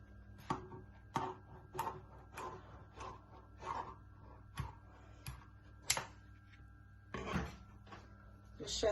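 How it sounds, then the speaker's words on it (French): A knife cuts through a small piece of puff pastry for beef cigars, making a series of soft, evenly spaced thuds on a board, roughly one every half second, close and quiet, with a few slightly louder knocks. "Je prends un petit tas de pâte feuilletée. Je vais le couper comme ceci."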